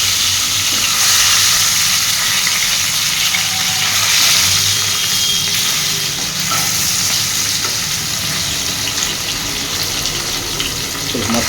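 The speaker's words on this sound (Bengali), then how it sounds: "চলো মাছটা ভেজে নিই" Fish fries in a pan, a loud continuous sizzling hiss that holds steady throughout with only slight swells, no voices over it.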